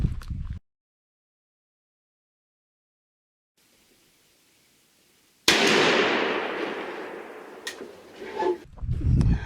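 A Remington 870 youth 20 gauge shotgun fires a Federal #9 TSS load at a 30-yard target, a single sharp, loud blast outdoors followed by a long fading echo.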